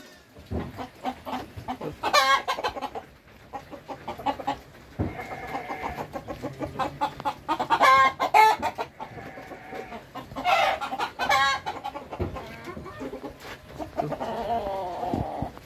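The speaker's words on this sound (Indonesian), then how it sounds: "Ini ayam hias sih." Ornamental chickens clucking at a livestock farm in Garut that also keeps sheep, with repeated bursts of calls rising and falling over about fifteen seconds, close and fairly loud against a busy farmyard background.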